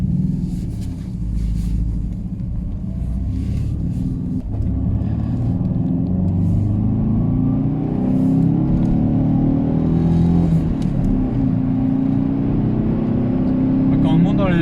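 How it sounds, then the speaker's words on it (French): An Alfa Romeo 145's engine rumbles and climbs in revs while driving, a steady close drone with rising pitch beneath people talking inside the car. "Quand on monte dans les tours, c'est sympa quand même là. Oui, ça fait une belle sonorité"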